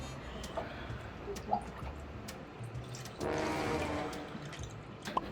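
A face is dunked into a basin of water to test whether cushion foundation makeup holds up, giving a close burst of sloshing splash around the middle, with soft dripping and trickling before and after.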